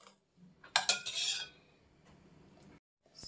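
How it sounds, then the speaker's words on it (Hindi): A metal spoon scrapes and clinks against a pressure cooker while cooked dal is scooped into a bowl, a short burst of close, bright scraping followed by softer handling sounds in a quiet kitchen. "अब कुकर में से जो है मैं दाल को ट्रांसफर कर ले रही हूँ दूसरे बाउल में"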